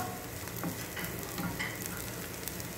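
Garlic frying in a pan until golden for potato soup, a steady close sizzle with faint stirring scrapes throughout, no voices.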